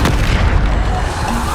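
Depulso spell impact in Hogwarts Legacy: a loud, heavy boom with a deep rumbling body that stays dense and sustained through the whole short burst.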